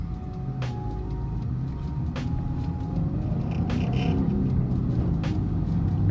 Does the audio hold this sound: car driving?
yes